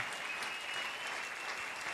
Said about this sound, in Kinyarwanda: Amashyi menshi ku mwami Yesu Kristo.